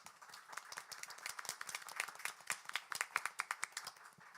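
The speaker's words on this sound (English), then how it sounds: "Let's give them a round of applause" An audience claps for a panel at a community conversation event, a quick burst of many hands clapping that grows and stays fairly close, without voices over it.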